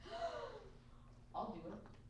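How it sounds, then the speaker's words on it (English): A crowd gasps in shock at a demand for the Gorgon Medusa's head, with two quick breathy gasps, one at the start and another just past the middle, fairly close and clear. "The crowd gasps."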